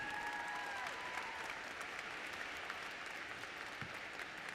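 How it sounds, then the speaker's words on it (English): Steady applause from an audience at a college inauguration ceremony, honoring student government representatives; dense clapping continues evenly and fairly distant throughout, with a faint whistle near the start. "Yeah, we should clap for them"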